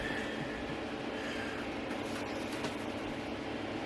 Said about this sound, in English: we'll see if we can get this locomotive underway